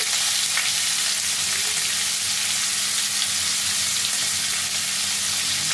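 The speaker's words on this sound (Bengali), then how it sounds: "এবার আমি ওই তেলের মধ্যে দিয়ে দিচ্ছি পেঁয়াজ কুচি।" Chopped onions frying in hot oil in a pan, a steady, dense sizzle that holds evenly throughout at close range, with no voices.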